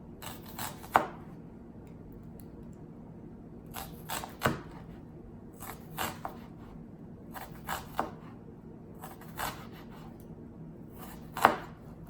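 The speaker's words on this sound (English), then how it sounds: "I'm doing thin slices because I don't want to have large chunks of onion in my salad." A knife slicing an onion into thin slices on a cutting board, with sparse, crisp chops spaced a second or two apart over a quiet room tone.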